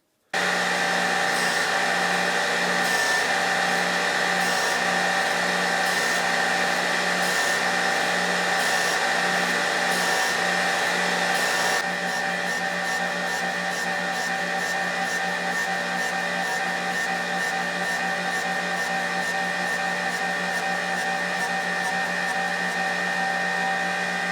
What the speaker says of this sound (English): I'm going to put them two sides on the surface grinder now and get them beautiful and smooth